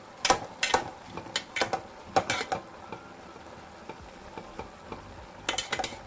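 A spoon stirs vegetable pieces in a cooking pot for an Onam meal, giving quiet, irregular scrapes and clinks in short bursts with pauses between them and no talking.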